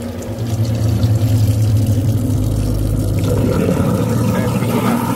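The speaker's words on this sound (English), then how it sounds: "you're gonna now turn on your garbage disposal." Whirlpool garbage disposal running with water flushing through it, a steady loud low grinding hum under rushing water for the whole stretch, with no talk.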